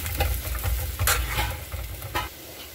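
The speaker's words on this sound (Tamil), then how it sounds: "இதோட பச்சை மிளகாய் போட்டு நல்லா வதக்கிடுங்க" Green chillies sautéing in a pan for tomato gotsu, with a close, continuous sizzle and repeated scraping stirs, no talking.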